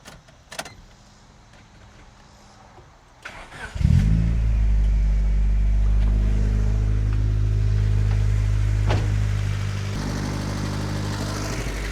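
After a few seconds of quiet clicks and handling noises, a turbo Honda Civic engine cranks and catches. It settles into a loud, close, sustained rev that holds steady and eases off slightly toward the end.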